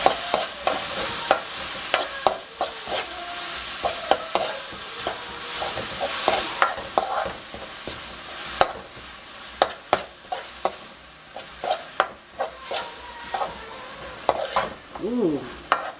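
Bagoong (shrimp paste) fries in a pan and is stirred, with a loud sizzle and repeated sharp scrapes and clacks of a utensil against the pan in an uneven rhythm.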